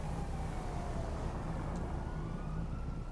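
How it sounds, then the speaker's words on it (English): Several police sirens in the game GTA 5 wail and overlap in the distance, rising and falling steadily over a constant rumbling background. "There's a lot of sirens going on."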